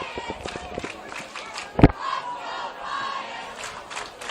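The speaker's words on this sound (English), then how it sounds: "The crowd is still pretty loud." Loud crowd noise in the stands at a high school varsity football game, Pius X versus Scottsbluff, a constant roar with yells and one sharp thud, while an announcer talks over it.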